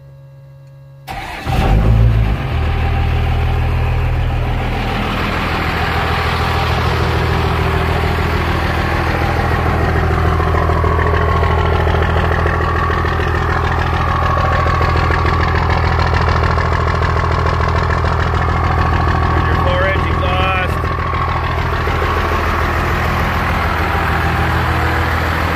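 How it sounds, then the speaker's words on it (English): A 1973 K30 truck with a swapped-in Cummins diesel engine cranks briefly and then fires, settling into a loud, steady, rumbling idle that runs close by without talk. "you use the key to engage your starter solenoid, and then you use this button to start it."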